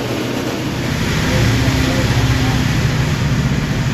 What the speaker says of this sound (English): Now that the engine starts nicely, we're able to run the motor